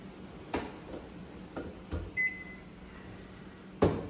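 A household microwave oven, just plugged in, gives a short electronic beep amid a few soft clicks and knocks in a quiet room.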